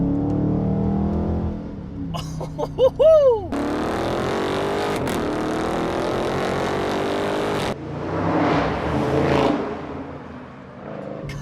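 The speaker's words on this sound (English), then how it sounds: "I cannot believe how good this thing sounds for having a factory exhaust." A 2020 Dodge Charger Scat Pack with stock factory exhaust revs hard with a deep, throaty roar, rising and falling in pitch, then settling into a steady drone; a man briefly exclaims.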